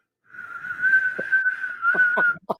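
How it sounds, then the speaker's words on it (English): A steady, sustained whistle tone held for about two seconds, followed by a few short clicks or taps near the end. "I'm blowing the whistle."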